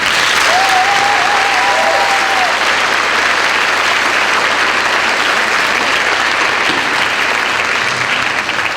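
Sustained, loud audience applause for Miss Washington at the 2003 Miss Tri-Cities Scholarship Program pageant, a dense, steady wash of many hands clapping that fills the whole stretch with little letup.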